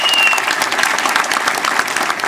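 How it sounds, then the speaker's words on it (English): Loud, sustained applause from a town hall meeting audience in Warren, Michigan, a dense wash of clapping that fills the whole moment without letting up. "big round of applause"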